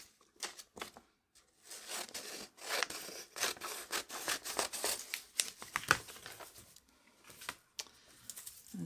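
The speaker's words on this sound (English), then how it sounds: "I'm going to cut off this edge here." Scissors snipping off the edge of a gelli print on paper, a run of close, crisp cuts and crinkly rubbing sounds with brief pauses between bursts.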